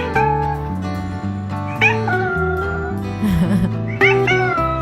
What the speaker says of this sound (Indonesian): Nextnya kita tutup dengan kucing nyanyi apa?